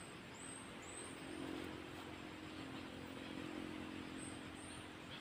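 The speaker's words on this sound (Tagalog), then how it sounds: "Ayan, narinig no? May motor sa ibaba." A motorcycle passes somewhere below in the distance, a faint, steady engine drone that swells and eases over a few seconds. It sits under broadband outdoor ambience, with high chirping sounds near the top of the clip.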